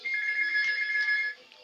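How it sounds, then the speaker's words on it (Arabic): A telephone rings with a steady electronic ringtone, one continuous close trill lasting over a second before cutting off, heard alone in a quiet indoor room. "التليفون بيرن."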